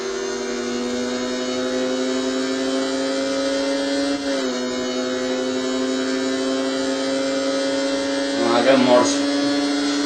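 A small motorcycle's engine drones at full throttle in the Riding Spirits 2 racing game, a loud steady buzzing tone that dips slightly as it shifts, then climbs and wavers near the end.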